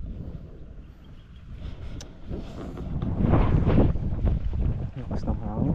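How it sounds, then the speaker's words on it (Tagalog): Strong wind gusts buffet an outdoor microphone on a calamansi farm, roaring steadily and swelling louder in the second half, with a voice speaking intermittently over it. "Lakas ng hangin."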